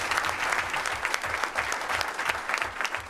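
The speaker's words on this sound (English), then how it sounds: "Let's give him a big round of applause." An audience applauds a teacher at a Maryland Teachers of the Year ceremony, dense sustained clapping from a crowd throughout, fairly close and loud with no talk over it.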